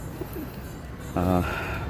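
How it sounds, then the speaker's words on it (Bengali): A low, soft pigeon coo rises near the end over steady outdoor ambience, with a faint voice earlier. "পায়রাগুলো আবার ট্রেনিং উড়ানোর জন্য রেডি"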